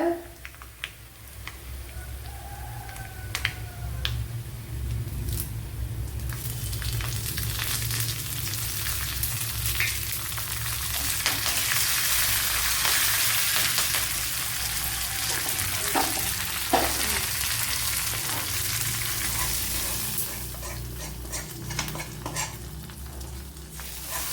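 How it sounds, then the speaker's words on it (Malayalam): Dried red chillies hiss and sizzle as they drop into hot oil over a vegetable chickpea curry (kadala curry), with a steady frying crackle throughout and a sharper burst partway through. "ഇനി വറ്റലമുളക് ഇട്ട് കൊടുക്കുക കറിയിലേക്ക് ഇട്ട് കൊടുക്കുക"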